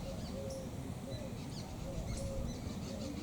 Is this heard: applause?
no